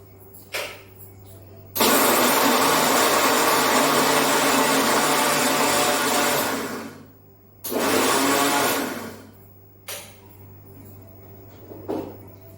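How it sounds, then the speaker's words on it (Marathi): A kitchen mixer grinder whirs loudly through roasted peanuts and cumin in two bursts, a long run of about five seconds and then a shorter one, with quiet gaps and small knocks between them. "आता आपण मिक्सरवरनं गुर्र करून घेऊया."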